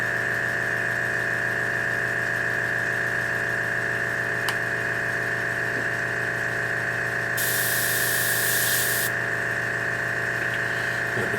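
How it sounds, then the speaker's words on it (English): An airbrush sprays ghost tint paint onto Eldar defence wall models, with a brief, loud hiss of spray standing out over a steady compressor hum that runs throughout. "Spray a little bit more in there."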